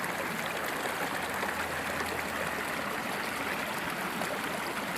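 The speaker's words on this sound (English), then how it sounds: "Check out this cute little brook. Tiny little waterfall." Steady, continuous rush of a small brook with a little waterfall in a Massachusetts state forest, close and even, with no talking.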